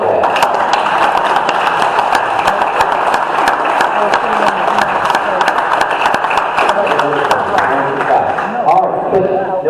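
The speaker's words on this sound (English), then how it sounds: "So give him another round of applause" A room of attendees at a general meeting gives a round of applause, dense continuous clapping mixed with crowd noise and voices, loud and steady throughout without a clear ending.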